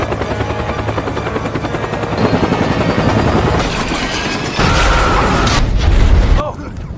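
A military helicopter in a prison action film scene, with loud continuous rotor chop and engine roar throughout, joined by bursts of gunfire and booms near the end.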